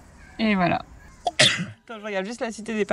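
A single sharp sneeze bursts out between stretches of French conversation, outdoors on a hot day in the Vaucluse; close and loud, brief, with people talking just before and after.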